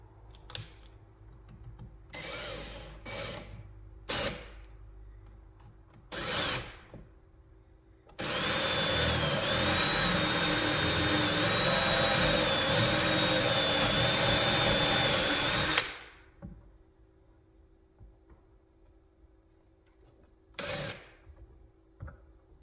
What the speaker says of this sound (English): And I got my holes drilled